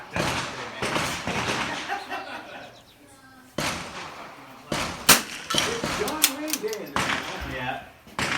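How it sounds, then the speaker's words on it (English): Pistol gunshots from a competition at an outdoor shooting range sound as sharp, distant cracks scattered through the clip, under ongoing nearby talk. "as you can probably hear in the background, some pistol competition going on"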